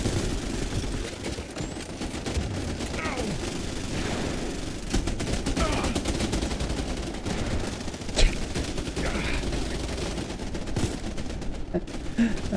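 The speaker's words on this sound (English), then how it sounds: "Oh, stop shooting me." Dense, continuous gunfire in the space combat game SpaceBourne 2, rapid shots and blasts layered over a loud, busy background throughout.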